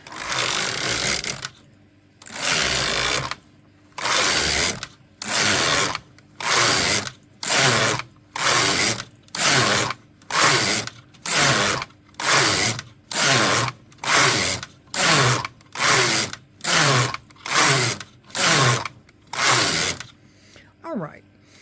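A knitting machine carriage is swept back and forth across the needle bed, knitting rows of a bag: about twenty loud, even, rasping passes in a steady rhythm, each separated by a brief pause.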